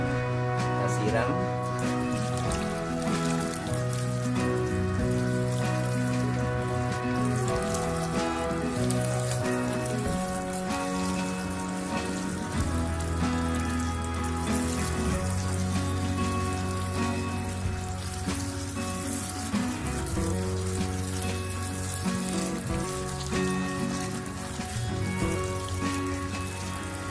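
A potted plant is watered, the trickle and patter of water on soil running steadily under a bed of music and intermittent talk.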